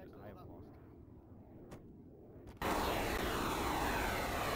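In Arma 3 with the OPTRE mod, an aircraft engine goes from a low idle hum to a sudden loud, sustained roar as the craft takes off, with voices over the quieter opening.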